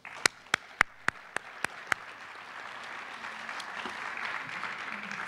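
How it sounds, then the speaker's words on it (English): At an awards ceremony, a few loud, evenly spaced claps from one person ring out near at hand, then a broader audience applause swells into a steady, moderate roar. "So I'd like to give them a round of applause"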